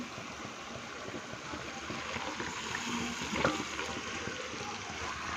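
Marinated chicken sizzling in hot oil with ginger garlic paste, a steady close crackling hiss that holds for the whole stretch, with no talk.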